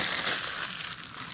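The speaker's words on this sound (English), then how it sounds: "crumple up newspaper," Newspaper being crumpled by hand into a ball for a pinch-pot craft project, a continuous close crinkling and crushing of paper lasting just over a second, with no talk.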